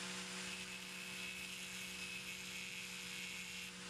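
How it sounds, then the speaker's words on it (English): Angle grinder deburring the ends of metal rods, a steady high-pitched whine with a constant motor hum running throughout, close and continuous with no talking. "I'm using an angle grinder so that I can deburr each of the rods."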